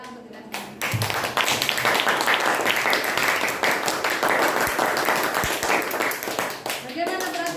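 A school class claps hands together in a classroom, a dense burst of enthusiastic clapping that goes on for several seconds, with voices mixed in and a few louder individual claps standing out.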